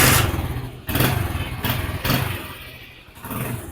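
Honda CD 70 motorcycle engine starts and runs close by, with a few rough revving surges and a steady low thumping idle between them.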